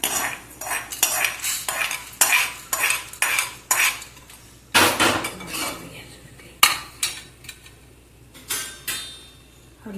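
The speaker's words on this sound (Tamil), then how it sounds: "தனியா கொஞ்சம் வாசனை வரும்போது வறுத்துக்கலாம்." Coriander seeds roasting in a pan while a metal spoon stirs and scrapes, giving a rapid series of sharp clinks and scrapes, close and fairly loud, with no talking.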